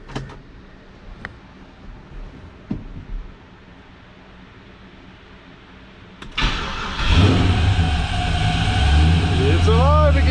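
A Chevrolet squarebody truck with Holley EFI cranks over, catches and settles into a loud, steady running rumble after a few seconds of quiet clicks and handling noises, with voices briefly nearby.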